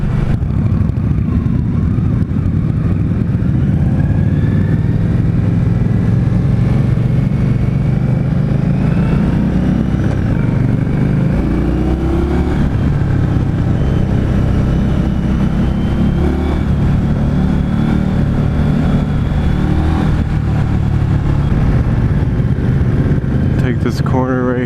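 A 2016 Indian Scout motorcycle cruising steadily in fourth gear, its engine droning loud and close with continuous wind rush throughout the ride.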